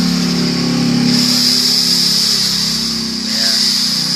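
An electric drill bores a hole into a handmade clay-timber jump frog fishing lure with a loud, steady motor hum that briefly sags in pitch under load before it recovers.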